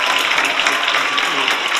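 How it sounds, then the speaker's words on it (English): Audience applause at a Scór na nÓg county quiz final in Cork, a loud, steady clapping from a crowd filling the whole stretch without talk. "give them a big, big round of applause"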